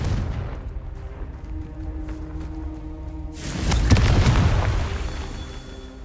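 A Confringo spell bursts in Hogwarts Legacy, a loud booming blast that erupts midway and rumbles with crackling debris for a couple of seconds over a steady game ambience.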